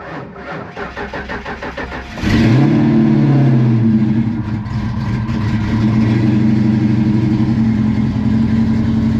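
A 1988 Ford Mustang GT with a 5.0 V8 cranks with rhythmic chugging for about two seconds, catches with a loud roar, then settles into a throaty, loping idle up close.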